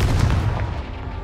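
The Confringo blasting spell in Hogwarts Legacy detonates with a loud, punchy boom up close, its low rumble slowly decaying afterward.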